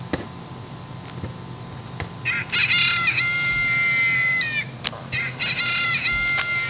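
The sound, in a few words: Delaware blue hen call from Audubon plush bird toy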